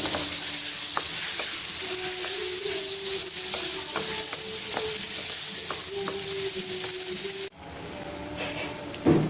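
Ground papaya sautéing in oil in a pan for halwa gives a loud, steady sizzle with repeated spatula scrapes and stirs, then a brief dip and quieter frying near the end.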